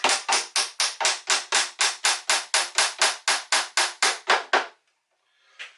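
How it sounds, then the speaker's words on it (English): A hammer taps a hinge pin into a Flambeau Tuff Crate, about seventeen sharp, evenly spaced strikes in quick succession, close and loud, ending abruptly with one faint knock after a pause. "probably going to need a little bit of a hammer to tap it in"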